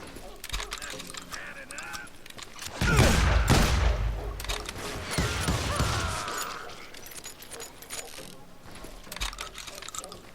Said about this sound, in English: Where's the rest of the shots coming from?